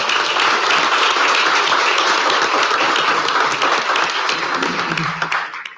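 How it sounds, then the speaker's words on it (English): A crowd at a city council meeting gives a sustained round of applause, dense and loud at first, then thinning out as the clapping trails off near the end. "that deserves a round of applause on its own"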